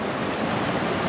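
Water rushing at a trail creek crossing, a steady close broadband wash with no other sounds.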